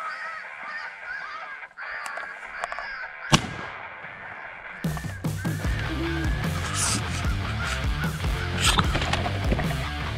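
A crow call played to lure crows during a shotgun crow hunt, harsh honking caws over outdoor noise, followed by a loud sharp bang and busier, louder noise.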